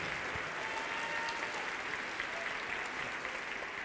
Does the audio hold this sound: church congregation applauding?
yes